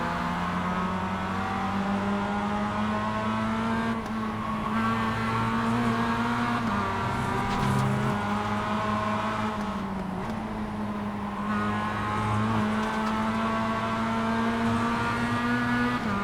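Race cars compete on a circuit, their engines holding a loud, steady droning whine with pitch shifts as they lap through turns, continuous throughout without talk.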